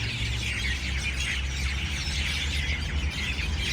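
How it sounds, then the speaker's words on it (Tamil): A dense chorus of many sparrows chirps at dusk in the Abu Dhabi area, a steady, busy twittering wash over low background rumble with no talking. "அவ்வளோ குருவி சத்தம்"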